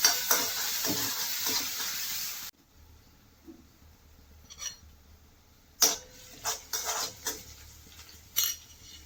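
Green peas being stirred into a sizzling potato samosa filling in a pan, loud frying hiss with clinks of a spoon against the pan, then quieter bursts of stirring and scraping.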